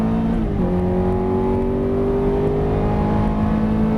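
A Ferrari F430 engine pulls hard on the throttle, with a sustained loud drone whose pitch drops sharply at an upshift early on and then climbs steadily again, close and constant without any talk.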